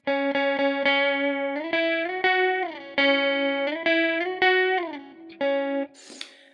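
Distorted electric guitar riff with a swirling chorus and flanger effect, loud and sustained notes sliding between chords, ending in a brief noisy scrape.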